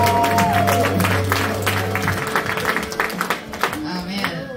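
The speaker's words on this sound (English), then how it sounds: "Start clapping now for Carly Ballerini." A comedy club audience at the Lincoln Lodge breaks into clapping and cheering as music plays, the applause growing into a lively, scattered patter after a couple of seconds.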